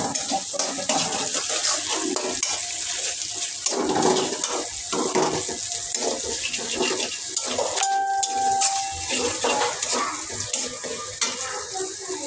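Onion frying in a pan for a bottle gourd greens dish, a constant loud sizzle and crackle with stirring scrapes throughout, alongside running water and clattering utensils nearby.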